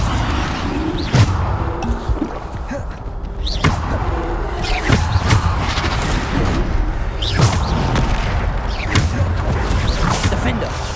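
Bombarda explosion spells blast during combat in Hogwarts Legacy, throwing out repeated heavy booms and crashes over a constant thick wash of game noise.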